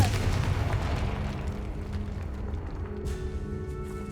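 A fiery Confringo blast spell goes off in the video game Hogwarts Legacy, a loud booming burst that rumbles and fades over a few seconds, followed by a faint high ringing.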